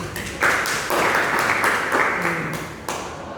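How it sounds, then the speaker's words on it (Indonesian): A class claps after a student's reading-report presentation, a modest round of applause with a few distinct bursts and swells, fairly near and fading slightly toward the end. "Oke, tepuk tangan untuk"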